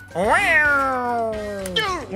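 A single loud, drawn-out cat meow that rises and then slowly falls, heard in the driving game Traffic Cop 3D, with a voice exclaiming around it.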